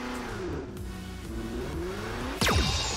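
A McLaren car driven in the mobile battle game Knives Out: a steady engine drone with shifting pitch, ending in a sudden louder rev and a sharp sweep near the end, with no talking.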